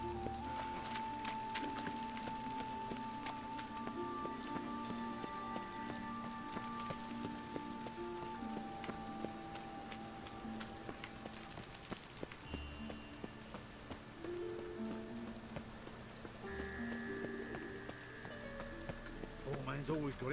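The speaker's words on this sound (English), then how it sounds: "Yes, it's raining." Steady rain hisses across the whole stretch in The Witcher 3: Wild Hunt, a constant wash of falling drops with tonal music-like sounds and occasional shifts layered over it.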